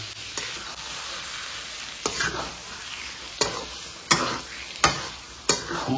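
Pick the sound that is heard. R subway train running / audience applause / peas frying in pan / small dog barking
peas frying in pan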